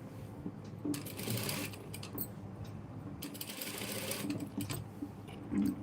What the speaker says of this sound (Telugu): లాస్ట్ది కింద వైపు నుంచి కుడుతున్నాను